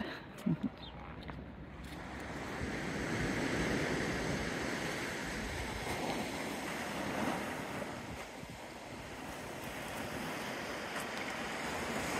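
Waves washing onto Caveiro beach in Portugal, a continuous soft surf roar with wind buffeting the microphone, faint and distant-sounding, with a brief clatter at the start.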